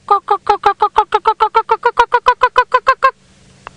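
A person imitates a yellow-billed hornbill on a morning safari drive, with about twenty evenly spaced, loud honking clucks in a steady run that stops abruptly after three seconds.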